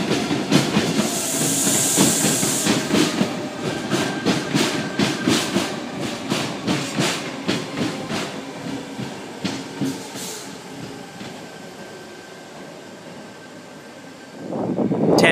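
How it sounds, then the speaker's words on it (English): A Sydney Trains Tangara electric train rolls into the platform with a rhythmic run of wheel clicks over rail joints, a steady hiss and hum, slowing as it comes to a stop. "Here we have a Tangara, front 4 cars, T122, arriving into platform number 2."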